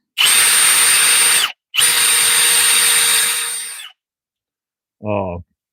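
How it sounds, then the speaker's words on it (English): A power drill spinning a bore brush on cleaning rods whirs loudly in two bursts, the second winding down slowly, then a brief spoken word follows after a pause. "put it on the drill"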